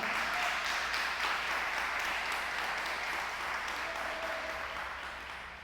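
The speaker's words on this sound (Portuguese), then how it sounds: "Dê uma salva de palmas para o céu." Church congregation applauding together, a sustained broadband wash of clapping that holds steady and then tapers off slightly at the end, with no talking over it.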